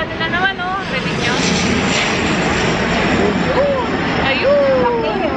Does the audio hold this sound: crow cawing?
no